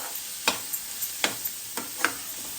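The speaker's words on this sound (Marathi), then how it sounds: "कांद्याचा आता कलर बदलेपर्यंत तो थोडा परतत राहायचा आता तो परतून जाईल कांदा" Onions fry in a pan with a light background sizzle, punctuated by several sharp stirring clacks of a utensil against the pan at irregular intervals, close by.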